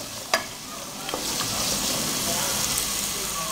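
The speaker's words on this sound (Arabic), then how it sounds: "نخليوه يتقلى شوية" Onion frying in a little oil for a summer eggplant dish, a steady close sizzle and hiss that holds throughout, with a sharp tap near the start and a few light clinks.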